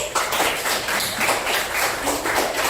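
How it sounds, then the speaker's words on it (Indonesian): Applause from a classroom audience for a student group presenting, a dense, steady patter of many hands clapping close by, continuing evenly with no talk over it. "tepuk tangan untuk kelompok auditori"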